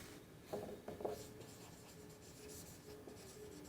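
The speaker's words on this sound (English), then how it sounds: "So I am going to write the compensation." A teacher writes a word on the classroom board, with soft scratchy strokes and a couple of firmer taps early on over faint room noise.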